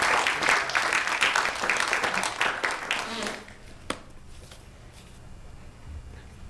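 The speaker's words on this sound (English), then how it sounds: "let's clap it one more time" An audience at a Brown University talk on Indian slavery applauds together, a dense wash of clapping that cuts off abruptly after about three seconds, leaving a quiet room with one sharp tap.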